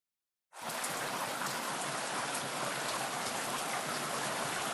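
Heavy rain falls in a steady, dense hiss that starts abruptly and holds at an even loudness, with no voices.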